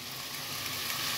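Soy sauce and chili sauce hitting a hot pan of mixed vegetables and chicken pieces, a steady bright hiss of sizzling frying that holds evenly throughout, close and alone without voices.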